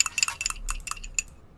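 Bright, glassy synth keys from a pluggnb beat play a short run of chiming notes over a faint low pulse, fairly quiet and alone.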